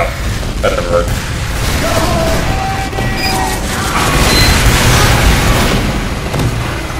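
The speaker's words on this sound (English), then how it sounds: "My grenade just stood in front of my face for a second" A grenade explodes in Team Fortress 2, a loud, booming crash with mechanical clatter that rumbles on through the seven seconds amid game noise, with no talk.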